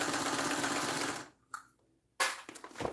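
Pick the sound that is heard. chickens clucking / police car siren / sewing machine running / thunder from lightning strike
sewing machine running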